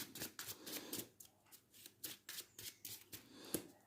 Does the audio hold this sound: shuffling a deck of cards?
yes